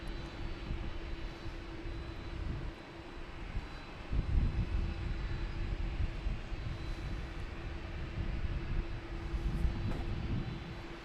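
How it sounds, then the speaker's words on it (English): An American Airlines Embraer E175 jet on approach to land at Boston Logan, its engines a steady low roar that swells midway and holds, distant and broadband with no voices. "you have an American Airlines coming in from Columbus. Coming in right over the Queen. E175."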